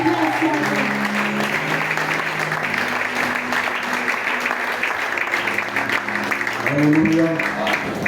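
A church congregation applauds steadily for several seconds, a dense, even patter of many hands with sustained keyboard tones beneath it.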